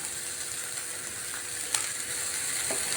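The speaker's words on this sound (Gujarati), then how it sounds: "આ 3 બેલ પેપર નાખીને આપણે બધું મિક્સ કરીને થોડીક વાર માટે સાતળી લેશું" Yellow, red and green bell peppers sizzle in a pan while being sautéed, a steady soft frying hiss with a couple of faint clicks of stirring, no voices.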